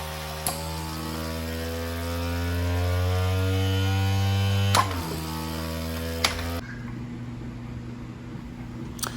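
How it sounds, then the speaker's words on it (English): A vacuum pump evacuating a vacuum chamber drones with strong low harmonics, a few sharp clicks, then the tone drops and settles into a quieter running buzz. "we use our vacuum pump to vacuum all of the air out of the vacuum chamber"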